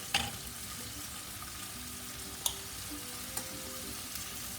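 Butter sizzles quietly in a pan as a sauce for salmon steak begins, a soft continuous frying hiss broken by a few light clicks.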